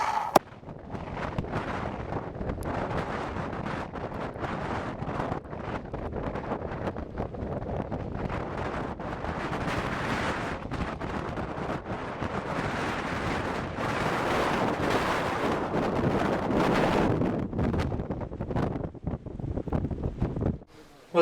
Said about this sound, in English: Mount Guyot was receiving 75 to 85 mile per hour gusts while we were traversing its summit